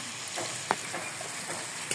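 Bottle gourd and fish curry stirred in a pan, a brief close sizzle with a few scraping strokes and one sharp utensil knock.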